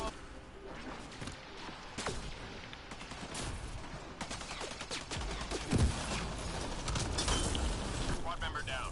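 Assault turret from the Mass Effect video game firing in dense, rapid bursts of gunfire with sharp cracks, loud and continuous, mixed with game clatter and voices talking over it.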